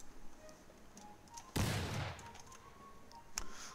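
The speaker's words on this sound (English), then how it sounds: "May have been some gunfire." Sudden burst of video game battle gunfire, a loud broadband volley lasting about half a second before trailing off, with a softer crack later and faint background noise between.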